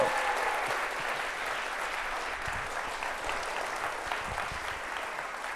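An audience at a live debate event gives sustained, even applause, a dense patter of many hands heard at a moderate distance without voices.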